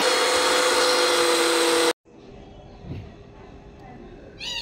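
An electric grinder blending soaked poppy seeds and water into a paste, whirring with a loud, steady high whine for about two seconds before cutting off abruptly, followed by quiet clinks and handling sounds.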